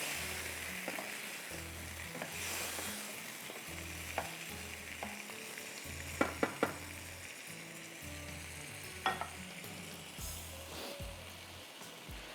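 Meat for Rajasthani bhuna gosht fries in a pan while being stirred, a steady close sizzle broken by repeated scraping stirs and a few sharp clinks of a spoon against the pot, with no talk.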